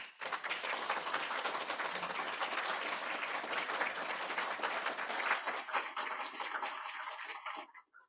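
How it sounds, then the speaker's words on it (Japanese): Audience applause at a Japanese school entrance ceremony, a sustained, even roar of many hands clapping, moderately loud and continuous before cutting off abruptly at the end. "皆様、今一度大きな拍手でお願いいたします。"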